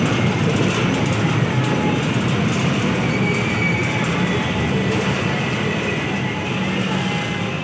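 An LRT light rail train rolls along in a steady, loud rumble with faint wheel squeal, heard continuously from on board or close by.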